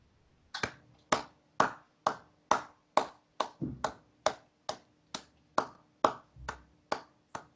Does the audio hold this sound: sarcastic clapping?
yes